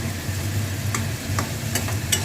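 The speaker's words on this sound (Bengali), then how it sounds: "দিয়ে এবার আমি একটু ভালো করে এটাকে একটু কষে নিচ্ছি" Potato and papaya stir-frying with ginger, chilli paste, turmeric and cumin, a steady close sizzle broken by a few sharp scraping stirs of the spatula against the pan.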